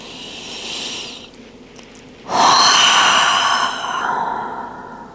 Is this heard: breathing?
yes